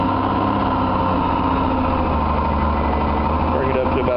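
A Smart car engine rises from idle to a higher, steady hum, heard close and loud, with someone talking over it.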